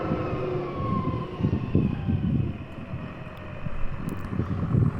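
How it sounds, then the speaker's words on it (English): A turbocharged vehicle engine rumbles steadily while driving, with a faint rising turbo whine over dense low drone and wind buffeting, loud and close throughout. "Beautiful turbo, horrible downshift, and turbo into the open is crazy loud."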